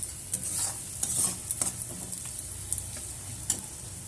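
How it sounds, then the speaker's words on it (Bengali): Potatoes sizzle and fry in a pan with a little red chilli powder while a spoon stirs them, giving steady close frying hiss with light scraping clicks and no talk. "আলু ভাজাটা চলছে আমাদের"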